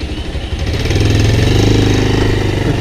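A motorcycle near a river bridge in Narayangadh, Chitwan, sounds close and loud, its engine rising from a rough idle into a steady throaty rev, with no talk.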